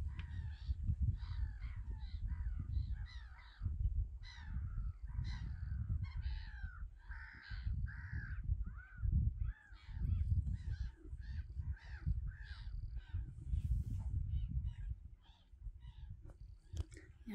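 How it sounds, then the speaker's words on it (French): Crows cawing repeatedly in harsh bursts at a bird observatory on Cap Ferret, some near and some farther off, over a low rumbling background of wind or handling noise. "Vous entendez les oiseaux?"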